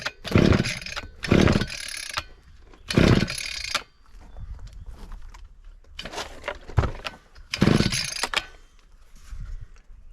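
Repeated pull-starting of an Oleo-Mac BCH 250T hedge trimmer's small engine: about five loud, rasping bursts of the starter cord with short pauses between them, close to the microphone, and no talk.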